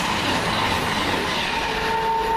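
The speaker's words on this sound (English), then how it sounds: "That's a Virgin service going to London Euston." A Virgin passenger train bound for London Euston rolls past at steady speed, a continuous loud rumble of wheels and track noise that holds throughout, with a faint high squeal building near the end.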